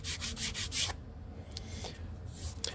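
An edge sander works 1/8 balsa wood with rapid rhythmic scraping strokes for about a second, then lighter intermittent rubbing passes follow, all close and fairly quiet.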